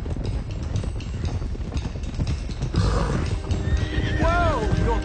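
Horses gallop and whinny in Red Dead Redemption 2, with steady clip-clop hoofbeats throughout and a shrill whinny near the end, all under dense game noise and a voice.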